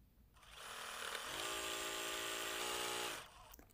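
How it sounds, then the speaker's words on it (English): A short burst of motorized buzzing from a sewing machine joining rows of a t-shirt quilt, rising in, holding steady for a few seconds, then stopping abruptly, like a quick line of stitches. "We're at the sewing machine again,"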